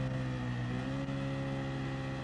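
Race cars in Gran Turismo idle and rev on the starting grid at Dragon Trail, a steady layered engine drone held at moderate, fairly quiet volume with no voices.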